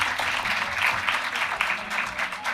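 An audience claps at a university session on Saint Teresa: a steady, moderately loud patter of many hands that carries evenly for a couple of seconds without fading.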